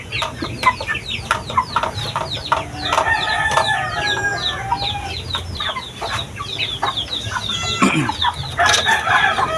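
A young Shamo stag of Jutako bloodline clucks and crows repeatedly, close by, with other chickens calling around it in a busy farmyard.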